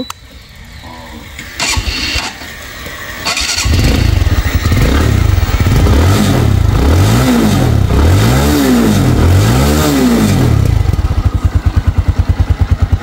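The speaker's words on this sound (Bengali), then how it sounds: "তো বাইকটা কিন্তু এখন স্টার্ট করে সাউন্ড কন্ডিশন দেখাবো," A used TVS 125cc motorcycle with 6,000 km on it cranks and fires up, then settles into a loud idle punctuated by several rising and falling throttle revs.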